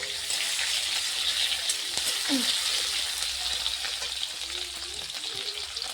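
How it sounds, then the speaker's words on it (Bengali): Chili, garlic and onion frying in oil in a pan: a steady broad sizzle runs throughout, with scattered pops and clinks over a low background hum. "এই যে লঙ্কা রসুন পেঁয়াজি দিয়ে দিন এই যে লাল লাল করে ভাজি নিই"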